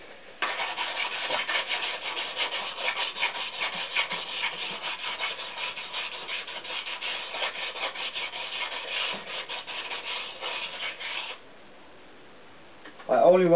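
Sandpaper rubbed by hand over an engine piston from a CX500 motorcycle to remove carbon, a steady scratchy rasping that lasts about eleven seconds with quick back-and-forth strokes, followed by a brief quiet gap and then a voice.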